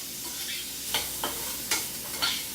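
Shrimp and bacon frying in a pan for scampi, a continuous close sizzle broken by several brief stirring scrapes at regular intervals, no voices.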